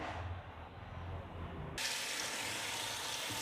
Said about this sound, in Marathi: मस्तपैकी अशी खळखळ धुवून घ्यायची आपण भाजी